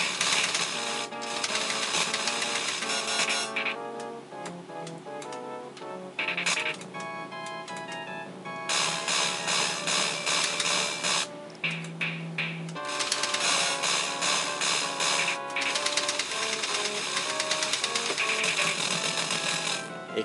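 Crackly, scratchy sound effects from a Ghouls 'n Ghosts arcade game on a conversion PCB, harsh buzzing bursts and tones that switch on and off in loud blocks throughout.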